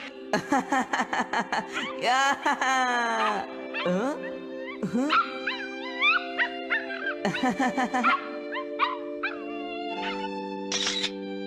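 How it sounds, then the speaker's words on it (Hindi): A dog yips, whines and gives short high-pitched barks in quick bursts, set against a steady musical background. "अभी मैंने एक डॉग की आवाज सुनी।"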